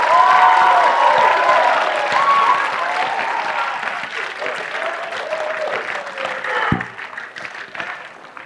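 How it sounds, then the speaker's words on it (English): Audience at a media career day session applauding loudly, a dense burst of clapping that gradually thins and fades over several seconds. "Let's just give another round of applause."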